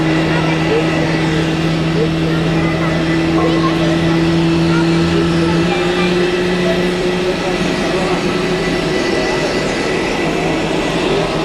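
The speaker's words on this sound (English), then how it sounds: "A Swiss Airbus A321 is taxiing in." Swiss Airbus A321 airliner taxiing at Zurich Airport, a steady, loud, unbroken engine drone with a low humming tone that holds throughout without pause.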